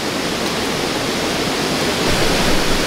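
A waterfall on a sand bass fishing stream gives a steady, full rushing roar that stays constant and close throughout, with no voices.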